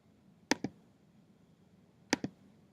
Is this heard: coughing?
no